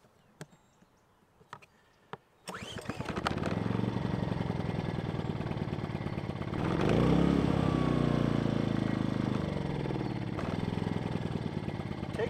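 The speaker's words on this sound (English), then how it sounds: "start the generator" An Echo EGi 2300 portable generator is heard after a few faint clicks, then fires up and settles into a loud, steady running drone close by, swelling briefly partway through as it warms up.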